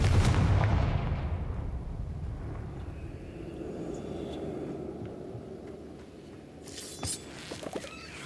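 A Confringo fire spell blasts in Hogwarts Legacy, a loud booming burst that rumbles and fades over several seconds, followed by faint crackles near the end.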